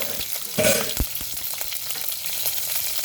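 Green chilies frying with dried red chilies and curry leaves in hot oil, a loud crackling sizzle with a burst of spitting early on and several utensil knocks.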